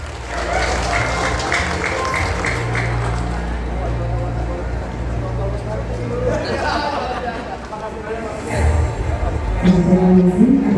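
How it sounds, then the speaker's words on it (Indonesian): Audience at a government super-app launch in Tangerang claps steadily throughout, a dense, fairly loud patter of many hands with chatter mixed in, swelling louder near the end. "Boleh beri tepuk tangan yang paling meriah"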